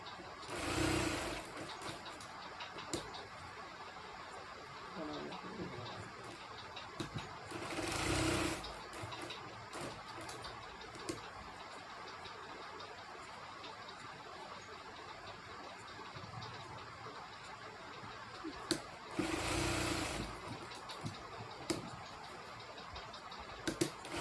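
A sewing machine stitches the pocket of a panjabi, its steady mechanical whir running throughout with a few louder bursts near the start and around 8 and 20 seconds, close and continuous with no talk.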